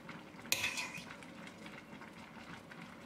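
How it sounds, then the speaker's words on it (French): Green cabbage is tipped into a cooking pot of nearly cooked vegetables and sausages for a potée, one clattering, rustling pour followed by a soft bubbling simmer. "versez le chou dans la cocotte"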